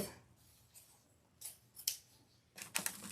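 Scissors snip off the tail of a ribbon on a Christmas candy-themed wreath, a few quiet, sharp close cuts spaced over a few seconds against a faint room background.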